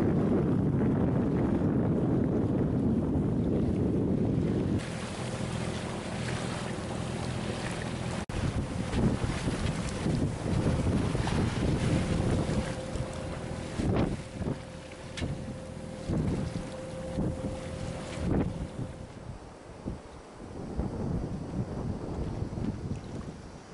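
Morning wind buffets a sailboat heading along the Costa Rican coast from Playa del Coco toward Bahia Ballena. A loud, continuous roar of wind gusts over the microphone, joined by a faint steady mechanical tone and occasional knocks.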